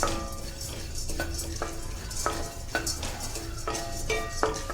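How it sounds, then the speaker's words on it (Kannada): Roasted gram being warmed and stirred in a pan, a steady dry rustle and scrape with repeated sharp clinks of the spoon against the pan, close and fairly quiet. "ಸ್ವಲ್ಪ ಬಿಸಿ ಮಾಡ್ಕೊಳ್ಳೋಣ ಹುರ್ಗಡ್ಲೆ"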